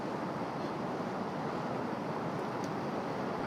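Steady, broadband wind roar buffets the microphone continuously on a rainy golf course in Busan, a dense rushing wash with no let-up and no voices.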